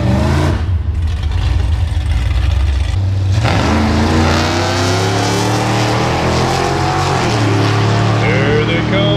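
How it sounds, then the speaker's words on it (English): Street racing cars, including a twin turbo LS Nova, accelerate down a drag strip at Powercruise USA, loud engines roaring and rising in pitch with sweeping revs over a busy crowd, with voices mixed in. "Now we're gonna watch some street racing."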